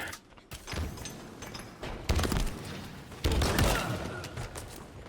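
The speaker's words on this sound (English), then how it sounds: "All I hear is gunshots." Rapid bursts of Halo gunfire crackle throughout, with sharp louder volleys hitting around the two- and three-second marks, dense and close.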